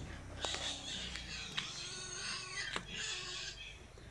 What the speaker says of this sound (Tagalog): Tsaka yung huni ng ibon, naririnig nyo.